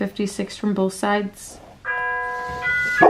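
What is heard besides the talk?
doorbell ringing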